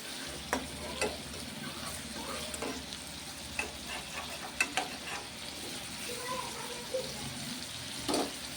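Mutton with fenugreek leaves simmering in a pan, a low steady sizzle and bubbling with occasional scattered clicks and stirring taps, close and fairly quiet.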